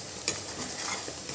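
Curry sizzles and fries in a pan, with a steady hiss, a sharp clink of a utensil early on and scraping stirring strokes, heard close and without any talking.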